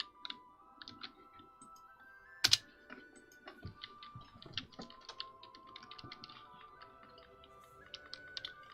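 Rapid keystrokes rattle on a computer keyboard during a Pokemon shiny-hunting stream, with irregular bursts of close clicking and one sharper louder clack partway through, faint background tones underneath.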